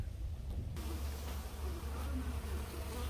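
Aggressive bees hum steadily during a bee removal on a hot day, a continuous low buzzing drone at moderate, even loudness throughout.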